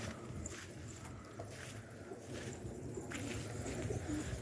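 Racing pigeons cooing in a loft, soft low throaty coos repeating at a moderate distance over a steady background hum, no talking.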